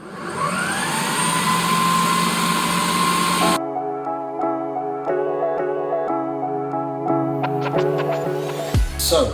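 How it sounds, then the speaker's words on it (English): A blender whirs loudly and steadily for a few seconds as it purees protein pancake batter, then cuts off. A voice speaks briefly afterward. "now we're going to whiz this up. Okay, so you just want to blend this so it is nice and fine."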